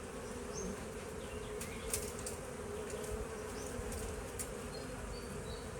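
Honey bees at their hive make a steady, dense buzzing drone that continues unbroken, with a few faint individual bees whining past nearby.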